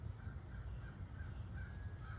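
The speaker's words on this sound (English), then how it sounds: "Do you hear the birds?" Crows cawing outdoors: a few faint, distant calls over a steady open-air background hum.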